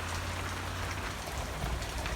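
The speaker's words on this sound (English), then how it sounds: "See how much it's going to rain now." Steady, broadband hiss of rain falling outdoors on a farm pasture, constant and moderately loud with no voices.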